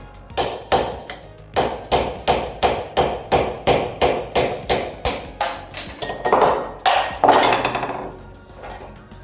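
A metal rod is hammered into an antique 1800s knife sharpener during restoration, about twenty sharp, evenly spaced hammer blows ringing close and loud, with a few heavier, irregular strikes near the end.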